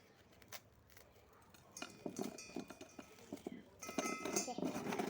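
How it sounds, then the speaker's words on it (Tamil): Biscuits are cut into pieces in a bowl, giving a run of close metallic clinks and scrapes that grow busier toward the end, over faint background sound. "ஓகே, பிஸ்கெட் நறுக்கி போட்டுக்கலாம்."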